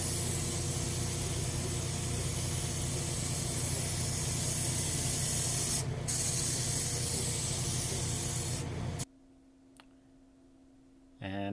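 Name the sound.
spraying clear coat on piano fallboard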